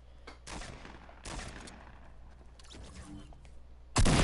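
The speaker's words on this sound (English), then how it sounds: "he's getting shot at with a LMG" Light machine gun bursts in a Fortnite match: a few separate volleys of rapid fire, fairly distant and moderate in level, with a sharper, louder burst close by at the very end.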